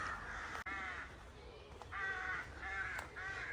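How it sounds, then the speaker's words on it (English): Crows cawing repeatedly in bursts near a churchyard along a holloway, loud and close, with harsh calls recurring over steady outdoor background noise and no talking. "I'm going to keep quiet for a little while just so you can hear all these noisy birds"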